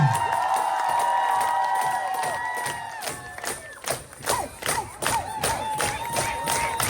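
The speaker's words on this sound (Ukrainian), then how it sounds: "Оплески Бориславу!" A crowd at a city day celebration cheers and claps, with sustained shouting and a wash of applause that grows into rhythmic clapping, heard from within a large gathering.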